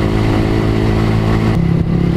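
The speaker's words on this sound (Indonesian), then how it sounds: "enaknya pakai knalpot brong itu kayak gitu bray. Disuruh geber sama bocil bisa geber." A motorcycle with a loud aftermarket brong exhaust revs close by, a throbbing, rumbling engine roar that holds steady and then dips briefly as the throttle eases.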